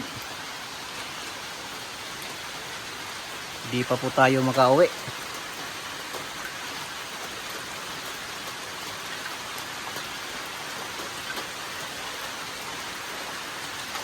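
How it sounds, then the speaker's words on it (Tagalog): Rain pours steadily over a farm, a constant close hiss of drops on surfaces, while someone speaks briefly near the start before the downpour continues alone. "Kanina pa po to yung ulan"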